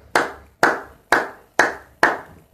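Church congregation claps together in five slow, evenly spaced loud bursts, each with a sharp start and a short fading tail, with no voices over it.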